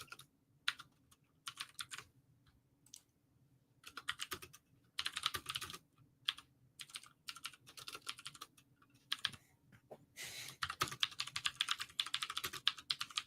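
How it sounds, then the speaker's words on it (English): Rapid clicky keystrokes on a mechanical keyboard come in uneven bursts separated by brief pauses, close and fairly quiet, with no one talking. "don't you guys love my mechanical keyboard?"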